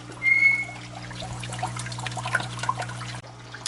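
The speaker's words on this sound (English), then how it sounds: "So I'm gonna let it drip." Water trickles and drips steadily during drip acclimation of a Ritteri anemone, a soft continuous dribble with small splashes over a low electrical hum.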